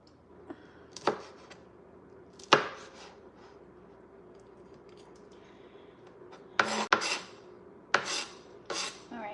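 A knife chopping chili peppers on a cutting board in a home kitchen while making Chinese five-colour pepper chili oil: scattered sharp chops in short bursts, closer-spaced thuds near the end, with no talk.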